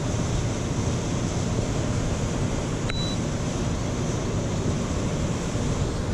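Water rushes steadily below the Wilson Dam tailrace on Pickwick Lake, a constant broad roar with wind buffeting the microphone and one faint short beep partway through.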